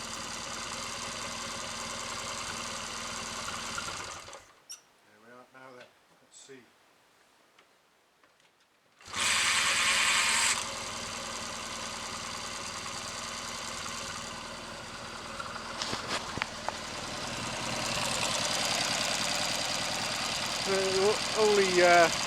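A Triumph Bonneville motorcycle engine idles with a steady, ticking mechanical beat, broken by a brief near-silent gap before the running sound returns loud and close, with a few sharper clicks toward the end.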